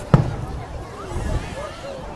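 Fireworks burst over Dee Why Beach in Sydney: a single sharp, close bang at the start, followed by a low crowd murmur and faint crackle from the gathered spectators.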